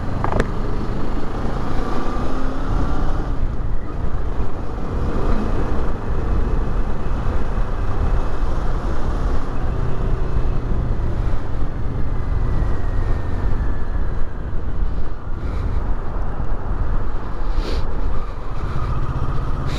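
A motorcycle riding through Hamburg, its engine droning loudly and steadily for the whole stretch, blended with heavy wind rush and road noise close to the rider.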